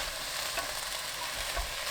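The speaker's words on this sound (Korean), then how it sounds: "1분 볶아주세요" Butterbur stems stir-fry in perilla oil in a pot over high heat, giving a steady, close hiss of frying with soft stirring scrapes, no voices.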